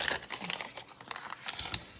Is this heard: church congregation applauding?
no